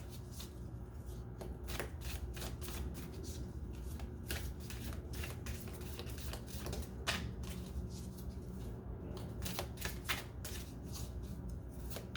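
Tarot cards are shuffled continuously up close in quick riffling bursts with soft slaps and rustles, fairly quiet and without speech.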